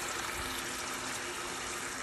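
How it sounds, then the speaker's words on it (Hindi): Microwave-heated water pours into a cooking masala gravy in a steady, continuous gushing splash that stays close and fairly loud with no voices. "तो मैंने पानी माइक्रोवेव में गर्म कर लिया है एंड उसको ऐड कर दिया"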